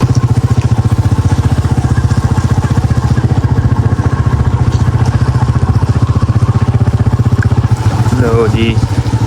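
A motorcycle engine runs with a steady, close, rumbling idle throughout, its rhythmic pulsing loud and continuous, with brief clattering and voices near the end; the bike is wet from rain.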